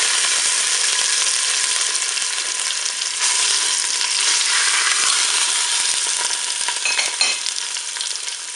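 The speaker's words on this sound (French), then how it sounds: "Le préchauffage est terminé, je vais pouvoir faire revenir mon rôti." A pork roast browns in hot oil in a Cookeo multicooker bowl, making a steady, close, bright sizzle with scattered crackles and small bursts, and no one speaking.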